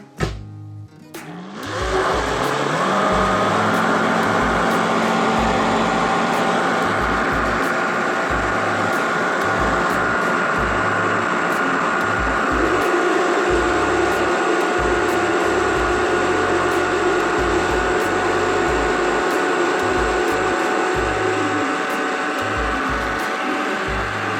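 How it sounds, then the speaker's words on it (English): A blender starts up with a brief sputter and then whirs continuously at high speed, loud and steady, puréeing parsnips, with no voices. "back to the blender"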